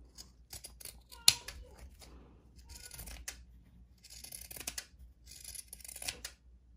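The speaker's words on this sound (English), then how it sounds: "Okay, so now I'm going to take my pinking shears." Pinking shears cutting through fabric for a rag doll horse, giving a run of close, crisp snips and crunching cuts in uneven bursts, with a sharper click near the start.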